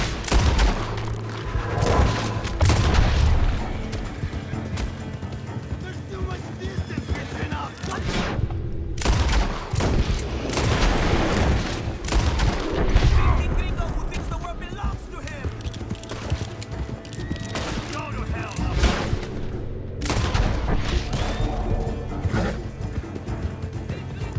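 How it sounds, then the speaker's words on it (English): Gunfight in the Red Dead Redemption II video game, with repeated gunshots in irregular bursts over a busy, loud mix of game effects and music, with someone talking intermittently. "Alright, I'll shoot people."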